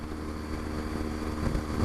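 A BMW R1200GS motorcycle cruises along a country road, its engine a steady, even rumble mixed with wind noise and no speech.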